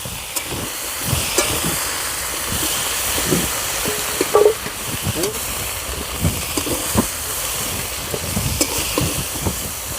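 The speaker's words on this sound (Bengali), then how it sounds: "হালকা করে ব্রোকলিটা আলুর সঙ্গে ভেজে নেব" Broccoli and potato pieces with turmeric are lightly fried in a pan, making a close, continuous crackling sizzle with frequent stirring scrapes, while a person talks over it.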